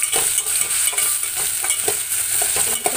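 Green chillies frying and being stirred in a pan with ginger-garlic paste for a gongura dish, giving a steady loud sizzle broken by repeated scraping stir strokes, close up with no talking.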